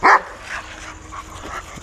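A German Shepherd and a Rottweiler bark in a street fight, loud bursts at the start and end with quieter yelps and snarls between, sounding like an agitated scuffle close by.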